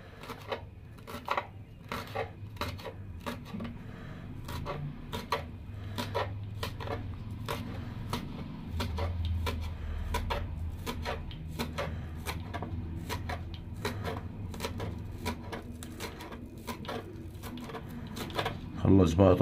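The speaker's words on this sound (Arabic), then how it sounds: "خلص بقى تقطيع البصل" Rapid knife chopping of onion on a board, sharp regular taps repeating throughout with a low background hum and occasional clatter.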